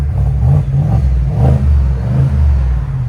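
A 2022 Cadillac Escalade's 6.2L V8 with a Borla S-Type exhaust revs outdoors in the cold, giving a loud, deep, throaty rumble that rises and falls in several close blips, with no voices.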